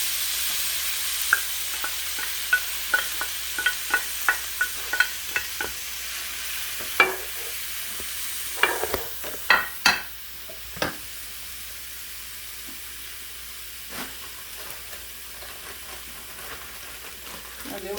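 Spinach sautés in a pan with a soft sizzle under a row of sharp stirring clicks and utensil taps, busier in the first ten seconds and then quieter.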